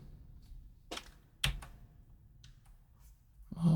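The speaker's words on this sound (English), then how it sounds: "if I press the caps button" A caps lock key on a computer keyboard is pressed, giving a few sharp, close plastic clicks spaced apart in an otherwise quiet room, followed by a louder rustle at the end.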